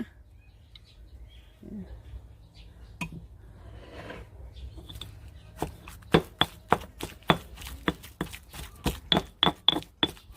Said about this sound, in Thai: คุณยายก็ใส่ปลาโขกพริกก้นคกนิดหน่อยนะคะ